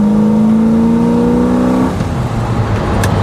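A 1970 Chevrolet El Camino engine revs up hard, its whine climbing steadily in pitch, then shifts into a rougher, lower roar; loud and close, no talking.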